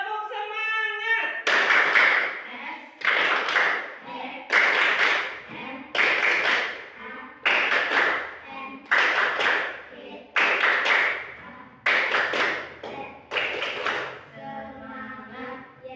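In a classroom, a group performs the tepuk semangat spirit-clap routine: about nine bursts of rhythmic group clapping, each roughly a second long and evenly spaced, with voices chanting along, and talk before and after.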